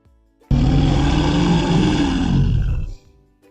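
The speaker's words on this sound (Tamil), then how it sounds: "சரியா சொன்னீங்க, இது நம்ம கரடி மாமாவோட சத்தம் தான்." A bear gives a single loud, deep roar lasting about two and a half seconds, rising abruptly out of near silence and trailing off into a rough, growling fade.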